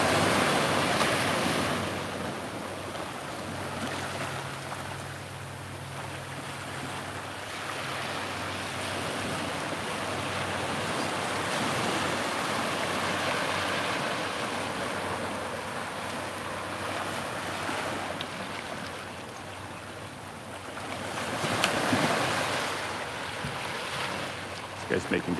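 A sailboat crossing open ocean in a Zelda video game, with steady rushing waves and wind that stay loud throughout and swell briefly near the end, while a faint voice talks beneath.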